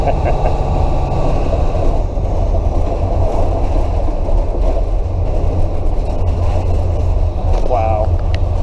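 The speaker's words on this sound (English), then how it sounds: "All right, let's keep driving this thing." A school bus being converted into an RV and registered as a motorhome drives down the road, its steady low engine and road rumble continuous and close throughout.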